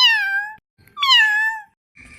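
A cat meows twice inside a bathroom, each call a clear, drawn-out, falling cry close to the listener, separated by a short pause, with a faint start of a third sound at the end.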